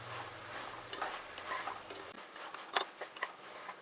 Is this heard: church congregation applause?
no